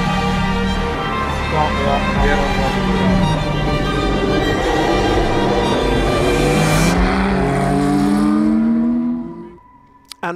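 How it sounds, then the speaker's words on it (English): A Lotus Type 62-2 race car by Radford runs on the Hethel track for the first time, its engine roaring loudly and steadily with rising revs for about nine seconds before cutting off near the end. "That is the Lotus Type 62-2, coachable by Radford, moving wheels for the very, very first time ever."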